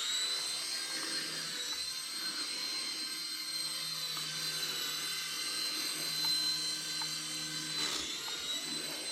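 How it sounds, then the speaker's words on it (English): A Hornet mini radio-controlled helicopter's small rotor whines steadily at high pitch for the whole stretch, an even buzzing drone with no talking. "I want to keep flying it"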